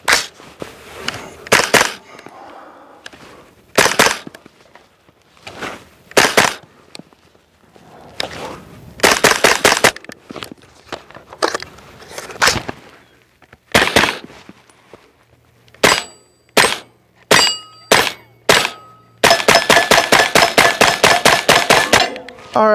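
A custom suppressed 300 Blackout AR-15 fires subsonic rounds in single shots and quick strings, each a close, sharp, clipped crack, ending in a rapid run of evenly spaced shots.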